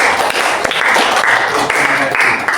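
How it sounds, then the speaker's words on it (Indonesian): Applause in a classroom for a student during a retail-sales lesson, a steady wash of many hands clapping for a couple of seconds, fairly loud and continuous. "Oke, aplaus dulu untuk saudara."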